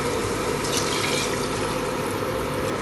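Water, two glasses of it, pours into a pot of rice being fried in ghee, a steady rushing, hissing pour that holds evenly throughout.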